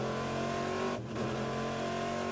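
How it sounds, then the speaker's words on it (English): A GTS race car at the 2002 American Le Mans Series round in Miami accelerates hard, its loud engine roaring steadily with a brief dip at a gear change. "Quickly up through the gears"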